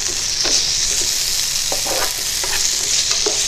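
Shrimp and rosemary fry in a pan with a steady, bright sizzle, while a utensil stirs and turns them in soft, repeated scrapes and clicks close by.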